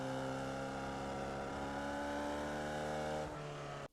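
Formula Vee race car engine in the iRacing sim, holding a loud steady high drone at full throttle for about three seconds, then a brief pitch change before cutting off abruptly.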